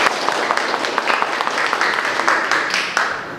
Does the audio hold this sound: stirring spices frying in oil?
no